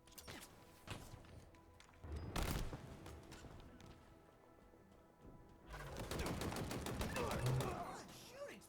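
Bursts of gunfire from Halo Infinite multiplayer, a sharp volley early on, a louder crack near the middle and a dense rattling stretch toward the end, with game sounds and a faint voice around them.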